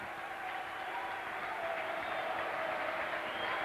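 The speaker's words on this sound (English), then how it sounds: "Coming out really to muted applause almost." Muted, distant crowd applause at a 1997 London Broncos versus Bradford Bulls rugby league match as the teams come out, an even, continuous patter of clapping across the stadium.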